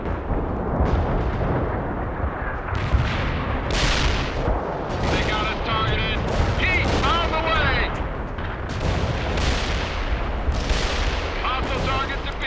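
Artillery and gunfire in the video game World in Conflict, with repeated heavy booms and crackling shots in a loud, continuous battle din under radio-style voices.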